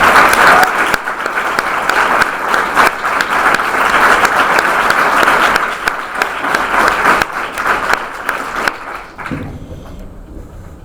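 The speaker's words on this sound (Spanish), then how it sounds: "Así que bueno, aplaudamos." A seated audience at a talk on gender policy in journalism and advertising gives a sustained round of dense applause. It holds steady for about nine seconds, then cuts off abruptly to quiet.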